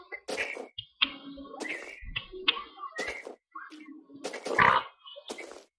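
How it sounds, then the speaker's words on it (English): Short grunting oinks from a Minecraft pig, repeated in bursts amid footsteps and tapping. "Stupid pig, shut up, piggy."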